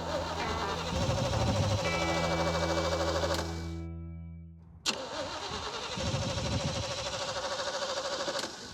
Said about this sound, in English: the Jeep wouldn't crank again, like the battery was dead